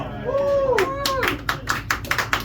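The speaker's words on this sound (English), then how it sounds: "Round of applause." Audience at a live comedy show giving a few scattered claps that follow a voice, sparse and fairly near rather than full applause.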